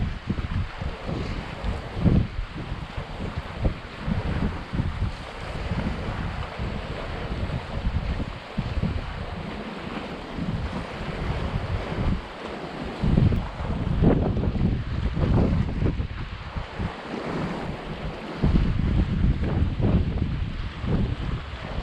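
Strong wind buffets the microphone outdoors, a loud gusting roar with uneven surges and dips throughout, and no voices.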